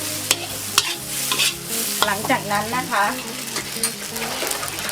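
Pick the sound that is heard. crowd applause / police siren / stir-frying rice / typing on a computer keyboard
stir-frying rice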